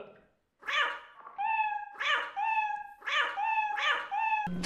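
A cat in the Lethal Company video game meows repeatedly, four or five loud, drawn-out mews in a steady rhythm, close and clear with no talking over them.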